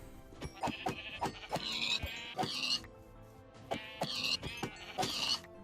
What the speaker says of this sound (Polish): Niestety, napotkałem stado owiec.